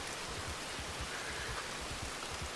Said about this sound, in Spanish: está lloviendo acá